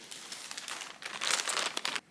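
A plastic bag holding knitting yarn is crinkled and handled close by, a continuous rustling crackle that swells louder midway and then stops abruptly, with no talking.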